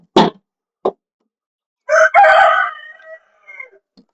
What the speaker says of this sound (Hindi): मुर्गे की आवाज आ रही है पीछे से